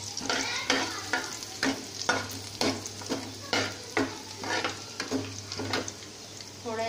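Chopped garlic frying in a pan over a medium flame sizzles continuously, broken by repeated rhythmic scraping strokes of a spoon about every half second, with a low steady hum underneath.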